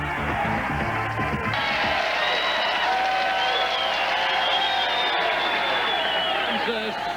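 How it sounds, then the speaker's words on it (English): A bowling crowd cheers and applauds a 300 game at a PBA Chattanooga Open. The roar is steady and loud throughout, whistles and whoops rising above the din, and an announcer talks over part of it. "Still cheering because Steve Jaros threw a 300 game just moments ago"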